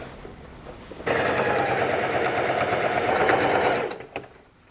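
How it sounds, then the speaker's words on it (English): A sewing machine runs steadily for about three seconds stitching a sleeve's underarm seam from the armhole out to the cuff, a close, even mechanical whir that starts abruptly and winds down at the end. "start sewing at the bottom of the armhole out to the end of the sleeve, and that will close that all up"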